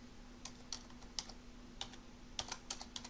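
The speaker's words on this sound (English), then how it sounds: "And I'm going to type my first code." Java code is typed on a computer keyboard in a quiet room, with soft, irregular key clicks in short bursts over a steady low hum.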